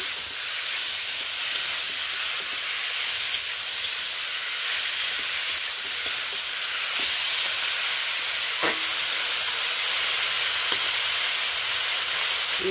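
Banana flower pulao being stirred and cooked in a pan, a continuous close sizzling hiss with faint occasional scrapes and taps of the spoon, and no voices.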